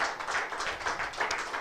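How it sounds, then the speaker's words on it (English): A seminar audience applauds at the close of an academic research talk, a soft, moderately distant patter of many hands clapping steadily without voices. "Big round of applause for our speaker tonight, Joy Damousi."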